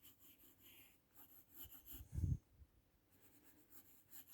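A pencil sketches ellipse lines on paper with soft, quick scratching strokes in repeated short bursts, quiet and close, with a brief louder bump partway through.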